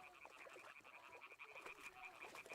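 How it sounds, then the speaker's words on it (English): A chorus of frogs croaks in the Kingdom Come: Deliverance II video game, a dense, faint, continuous trilling of overlapping calls with a rapid pulsing rhythm and no voices. "I can just hear frogs"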